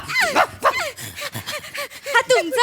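A dog gives a quick run of sharp yips and barks, about half a dozen short bursts close by, with a little talk around them.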